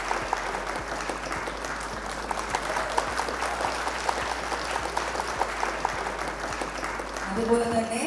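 Audience applause at a betrothal ceremony: dense, steady clapping from a crowd fills the whole stretch at an even level, with a faint murmur rising near the end.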